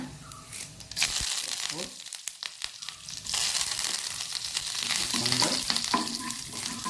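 Cumin seeds sizzle and crackle in hot oil over a low flame while a Mosaranna (curd rice) dish is prepared, a steady frying hiss with scattered pops and stirring clatter throughout.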